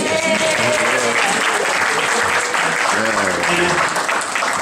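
Audience at a 90th birthday party applauding, dense continuous clapping from a room full of people with some cheering mixed in.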